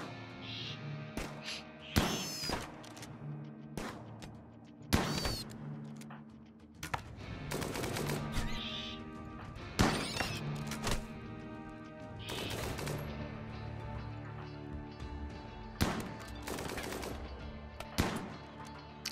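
Raiders fire guns in the video game Rimworld: scattered single shots and rapid bursts crack out at irregular intervals over a steady tonal background score.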